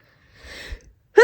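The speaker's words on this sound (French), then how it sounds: "Je vais faire qu'éternuer pendant 10 minutes." A person sneezes once after touching hay: a quiet breathy build-up followed by a short, sharp, close sneeze.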